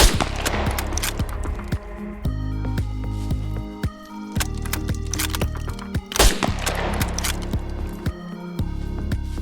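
A rifle in the SCUM video game fires .30-06 rounds into a brick wall, sharp loud gunshots at irregular intervals with impact thuds and game sounds between them.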